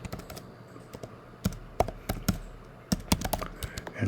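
Rapid clicking of computer keyboard keys while an email address is typed in short, uneven bursts with brief pauses, close and fairly quiet, no talk.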